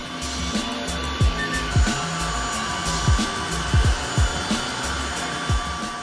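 A wet-dry floor vacuum cleaner runs steadily at fairly low volume, a continuous whirring drone with a handful of short thumps and knocks as it moves over the floor.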